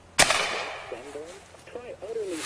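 A single sharp, loud gunshot from a gun in a video game cracks near the start, followed by voices talking over low background noise.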